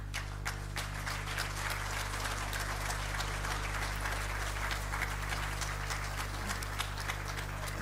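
An audience at a Unisa water imbizo applauds standing representatives of an institution, producing an even, moderately faint patter of many hands clapping over a constant low electrical hum.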